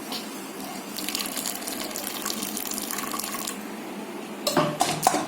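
Spinach greens soup being strained through a sieve in a home kitchen, with steady liquid pouring and splashing for several seconds followed by a few louder clatters of utensils near the end.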